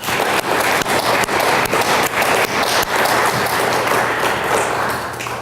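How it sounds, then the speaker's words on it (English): Audience at a school board of education recognition ceremony applauds honored students: dense, loud, sustained clapping across the whole stretch, with no talking. "Please join me in a round of applause for these young ladies"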